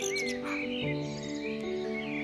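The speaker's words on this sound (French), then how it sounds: "mais d'un merle peu fréquent, un merle blanc." A white (leucistic) blackbird sings melodious, fluting phrases over a steady, continuous background, the song clear and fairly close; recorded in Plérin, Côtes d'Armor, France.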